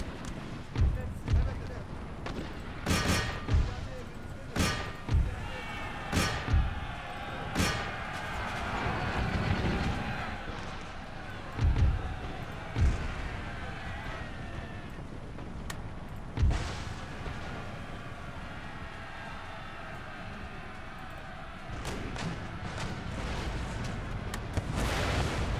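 Enemy mortar fire in Empire Total War with Darthmod, Ottoman campaign battle: repeated heavy booming impacts every second or two, some louder and sharper, over a constant rumbling battle din, with someone talking at times.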